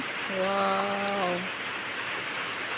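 Heavy rain pours steadily over rice paddies, a dense even hiss with no let-up; a brief tonal hum rises partway through and fades.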